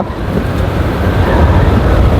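Loud, constant wind buffeting the microphone with a rough, rumbling roar throughout, during a cycling race in San Jose City.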